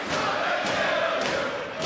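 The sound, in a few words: wrestling crowd chanting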